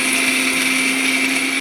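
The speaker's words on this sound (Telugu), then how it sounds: "మిక్సీ జార్లో వేసి కొంచెం వాటర్ యాడ్ చేసుకొని మిక్సీ పట్టుకోవాలండి మెత్తగానే" A mixer grinder blends masala paste with water in its jar, a loud, steady high-pitched motor whine with a churning roar that holds evenly the whole time and cuts off abruptly at the end.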